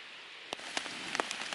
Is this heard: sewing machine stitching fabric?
no